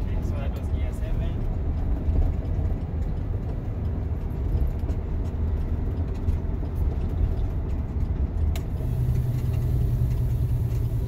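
A Sino truck with a 10-speed gearbox runs with a steady low diesel rumble whose revs ease down ahead of a gear change, the engine note shifting lower near the end, with someone talking over it.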